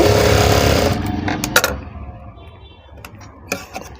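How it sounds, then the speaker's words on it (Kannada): A sewing machine stitches fabric in a loud, steady mechanical run for the first second or so, then slows into scattered clicks and short bursts with quieter gaps. "ಇದು ಸ್ಟಿಚ್ ಮಾಡ್ಕೊಳ್ಳಿ 2 ಕಡೆನೂ."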